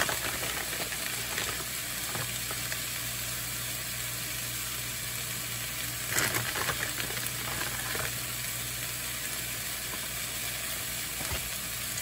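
Garlic sizzles in a teriyaki stir-fry pan, a steady, dense frying hiss that holds for several seconds, with a brief louder burst of spattering partway through and faint stirring sounds.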